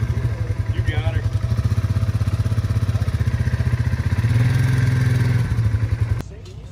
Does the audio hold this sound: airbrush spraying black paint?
no